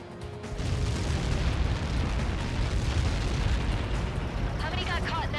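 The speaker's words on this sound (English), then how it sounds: "How many got caught in that explosion?" A massive impact explosion in the combat flight game Ace Combat 7, a heavy sustained roar and rumble filling the whole clip after a brief lead-in, with a fluttering high tone near the end.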